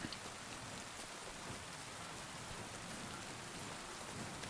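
Steady rain pours in the video game Kingdom Come Deliverance 2, a dense, even hiss of drops on surfaces, quiet and unbroken throughout with no voices.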